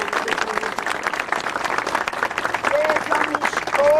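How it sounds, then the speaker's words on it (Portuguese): A church congregation applauds, a sustained crowd of clapping that swells louder toward the end, with some voices and a few whistles rising over it. "Uma salva de palmas toda a Cristo."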